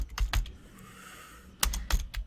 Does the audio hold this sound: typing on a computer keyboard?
yes